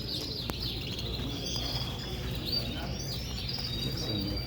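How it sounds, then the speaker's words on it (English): Canaries chirp at a canary show, many small birds twittering and trilling at once in a steady, busy chorus over indoor room noise, moderately distant and continuous. "These are like a red crested bird"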